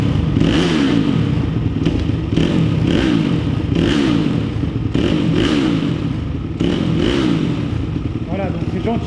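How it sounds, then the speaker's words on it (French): A YCF Daytona 190 pit bike engine is revved in several sharp throttle blips, each rising and falling in pitch in a repeating rhythm over a close, loud idle. "Je vais y mettre quelques coups de gaz."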